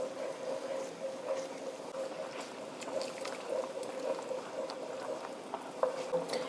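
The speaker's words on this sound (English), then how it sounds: "I'm gonna slowly add my pasta water to this" Pasta water slowly added to a caper pasta sauce on high heat, with a steady close simmering bubble and faint sizzle running throughout, soft stirring ticks scattered over it and no talk.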